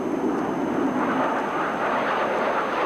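Aircraft of the Italian aerobatic team flying at the Abbotsford Air Show, a steady broad roaring drone of engine noise heard from a distance, continuous and without voices.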